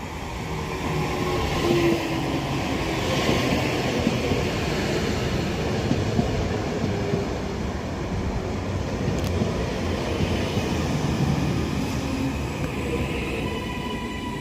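A four-carriage Class 331 electric train passes East Didsbury station on the Styal Line, a steady loud rumble of wheels and motors that holds close for the whole stretch, with faint squeals and no talk.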